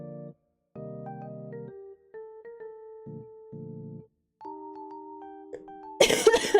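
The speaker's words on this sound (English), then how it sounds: "I should not be coughing into the mic." A run of soft electronic tones and chimes ends in one sharp, loud cough close to the microphone during a livestream chat.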